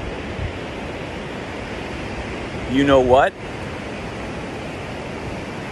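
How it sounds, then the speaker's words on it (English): Ocean waves wash in a steady, broad roar at a surf beach. Someone speaks briefly over the surf. "I was looking at the waves, and the waves are fantastic right now"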